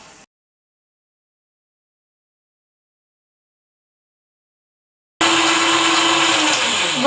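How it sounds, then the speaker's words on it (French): A stand mixer whisks eggs with salt and sugar at high speed, starting abruptly after near silence and running as a loud, steady whirring drone to the end. "J'ai mis les œufs dans le bol du pétrin. J'ajoute une pincée de sel et je vais fouetter un petit peu."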